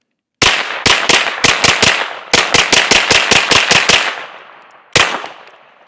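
Shots from a Smith & Wesson FPC folding pistol-caliber carbine fired at a range: a loud, close burst of about fourteen rapid, evenly spaced reports, a short pause, then one final shot with a ringing tail.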